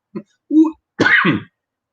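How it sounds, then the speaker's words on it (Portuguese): A man clears his throat at a public talk, apparently irritated by dust: a short soft grunt, then two louder, harsher bursts close to the microphone, with pauses between them. "um pigarro aqui, não sei o que é a poeira"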